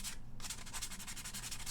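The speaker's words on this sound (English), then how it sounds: "I'm just sanding the edges, not the whole piece" Sandpaper rubbing along the painted edges of a wooden piece to distress it, a steady run of close, rasping back-and-forth strokes after a brief pause near the start.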